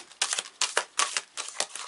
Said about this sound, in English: We're just going to keep shuffling and letting the cards fall until I feel they're done.